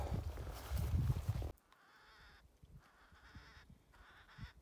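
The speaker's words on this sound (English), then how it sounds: "You hear that? There's some kind of pissed off bird over here." In a mountain meadow along the South Boundary Trail at Rocky Pass, an agitated bird calls in short, harsh bursts that repeat at a distance, following a loud rush of wind or handling noise.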